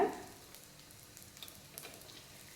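Corn cheese balls fry in hot oil with a soft, steady sizzle and light crackling, fairly quiet and close, with a few brief louder bursts.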